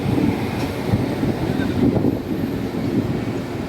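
Howrah to Puri local train running, heard from inside the carriage as a steady low rumble and rattle with wind buffeting, continuous throughout.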